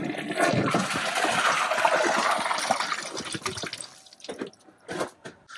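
A Kohler toilet flushes with a carrot inside the bowl, a loud rushing gush of water that tapers into gurgles, drips and refilling trickles, heard close by without speech.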